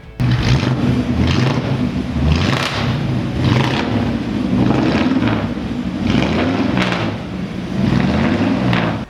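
A 1955 Chevrolet Bel Air convertible engine rumbles and revs repeatedly, rising and falling in a rough, throaty rhythm, loud and close with no talking.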